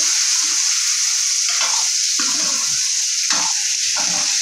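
Radish curry fries in hot oil, a loud, constant close-up sizzle with bursts of bubbling and stirring scrapes throughout.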